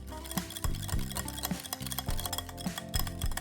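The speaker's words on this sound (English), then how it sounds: "Break it up and whisk it with the eggs." Sour cream is whisked with eggs in a bowl for banana bread batter, with quick rhythmic ticking of the whisk against the bowl over soft background music.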